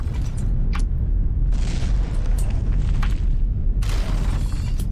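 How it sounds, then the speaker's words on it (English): Explosions tearing through an aircraft's wing and jets in a video game battle, a dense low booming rumble with bursts of crackling debris flaring up twice over the roar. "See another large explosion, looks like it's taking out the other wing now"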